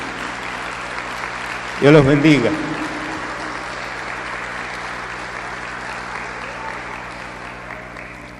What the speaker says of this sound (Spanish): los recibimos con un aplauso de bienvenida